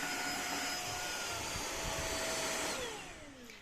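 A Tineco iFloor3 vacuum cleaner runs on a floor with a steady, loud, close whirring roar that fades slightly at the end.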